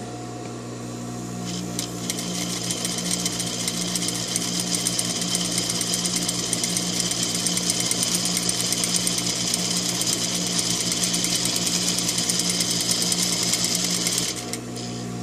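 A sewing machine stitching a fabric seam at half an inch: a steady, fast, loud mechanical whirring that runs without pause for about twelve seconds, then stops, with no talk.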